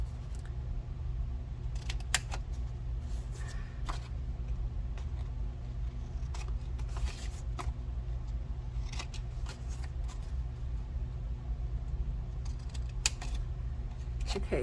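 Scissors cutting paper to shape a gift box, with a series of close, crisp snipping clicks spread over a steady low hum, with no voices.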